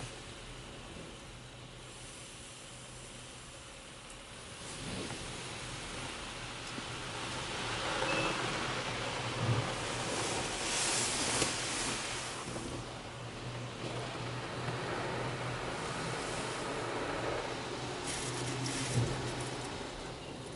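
A Mark VII AquaJet GTO-700 automatic car wash sprays pre-soak over a car, a broad continuous hiss and rush of water that swells and surges in waves for about twenty seconds, with no talk.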